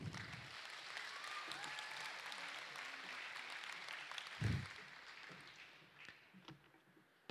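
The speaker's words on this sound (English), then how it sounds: "Please join me in a round of applause for you." An audience at a secondary school awards and graduation ceremony claps in a sustained, even wash of applause, heard fairly faint and distant, with a soft thump partway through before it thins out.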